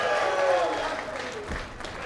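A USA crowd cheers and applauds at Weber Cup bowling, a dense, moderately loud wash of clapping and cheering that fades slightly toward the end, with commentary voices over it.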